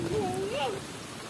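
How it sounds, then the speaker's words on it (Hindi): Heavy rain pours outside as a constant hiss, while a voice speaks briefly over it. "बाहर कुछ ज्यादा ही नेक्स्ट लेवल का बारिश हो रही है"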